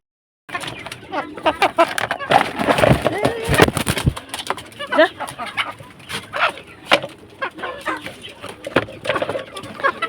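Five-month-old laying hens cluck and stir close by in a backyard flock, giving short irregular calls and scratching noises while someone talks over them.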